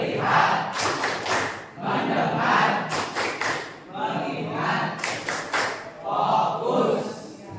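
Students in a classroom run through the 'tepuk fokus' clapping icebreaker, with bursts of loud group hand claps in a patterned rhythm alongside chanting voices. The claps come in several distinct rounds.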